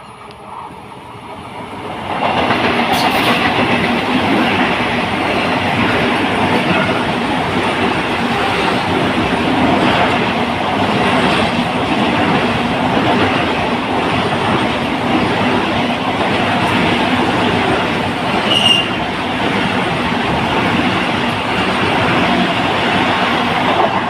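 A train rumbles past on the rails at Mullurkara Railway Station, its steady roar rising quickly and holding loud and close, with rhythmic wheel clatter and a faint squeal.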